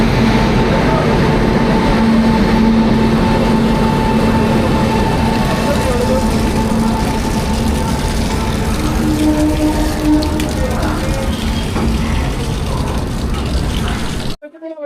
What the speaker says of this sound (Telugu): గూడ్స్ రైలు ఇది, ఏం ప్యాసింజర్ రైలు కాదు.